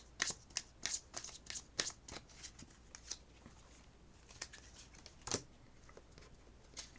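Tarot message cards are shuffled by hand in a run of brisk, papery riffles and flicks. The bursts are uneven, close and fairly quiet, with no voices.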